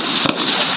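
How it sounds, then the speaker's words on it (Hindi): A single sharp gunshot cracks out loud and close during district police firing practice at a range in Janjgir-Champa, with steady background noise around it. "अन्य अधिकारियों की उपस्थिति में फायरिंग अभ्यास चल रही है।"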